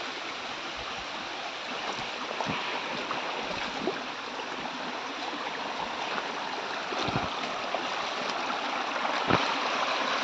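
Cold, clean forest stream in the Konkan jungle flowing steadily, a continuous close rushing and babbling of water with small splashes, no voices.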